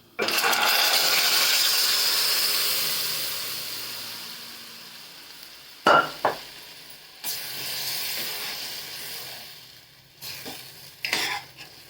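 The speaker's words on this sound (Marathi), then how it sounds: "काजू बदाम परतून सगळे ड्रायफ्रूट परतून झाले" Cashews, almonds and other dry fruits roasting in a pan for wheat kheer give a steady close hiss and sizzle, with a few sharp stirring scrapes and clatters partway through.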